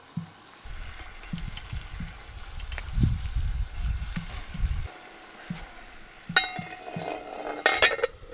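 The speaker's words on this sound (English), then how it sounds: "got some burgers cooking" Thick homemade burger patties cooking in a pan on a van camping stove, a steady low sizzle and frying crackle with occasional clinks of a spatula or utensil against the pan, fairly close.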